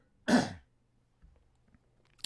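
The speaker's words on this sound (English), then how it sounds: "I'm coughing all over the place." A single sharp cough or throat-clear bursts out near the start, loud and close, followed by quiet room tone with a few faint small knocks.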